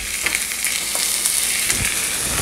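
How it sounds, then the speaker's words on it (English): Rump roast searing in a hot pan on a gas stove set to medium-high, giving a loud, continuous close-up sizzle and crackle with small pops throughout. "so you're giving it a quick searing around the edges"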